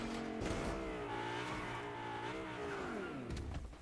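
Car engine revving and shifting with tire squeal in the video game Fortnite, a steady loud motor with rising and falling pitch throughout.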